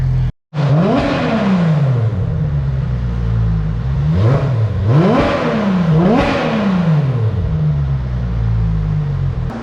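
A Toyota Supra Mk IV engine revs hard close by, several loud sweeping rises and falls in pitch following a brief dropout at the start, with no talk over it.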